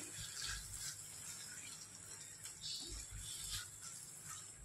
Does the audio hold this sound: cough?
no